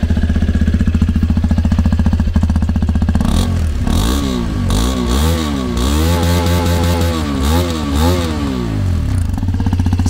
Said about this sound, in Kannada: ಇನ್ನು ಹೀರೋ ಎಕ್ಸ್ಪಲ್ಸ್ 210ನ ಎಕ್ಸಾಸ್ಟ್ ನೋಟ್ ಯಾವ ರೀತಿ ಇದೆ ಅಂತ ನೀವು ಕೇಳಿಸ್ಕೋಬೇಕಾ?